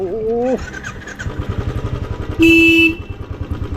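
A motorcycle engine idles and putters steadily while parking at a resort in Mandarmoni, close and fairly loud, with two short honks from a vehicle horn cutting through near the start and middle.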